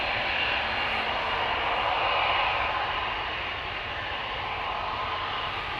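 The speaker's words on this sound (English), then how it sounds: "This is KLM flight 877 to Mumbai in India." KLM jet airliner on flight 877 to Mumbai departing Amsterdam Schiphol Airport, a steady loud broadband engine roar sustained throughout, swelling slightly midway, with no talk.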